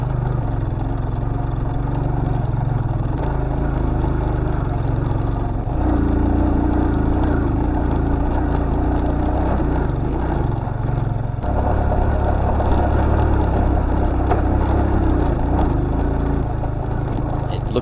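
A dirt bike engine labours up a high country dirt track, a loud continuous drone close to the listener that shifts in pitch as the throttle changes, with talking over it.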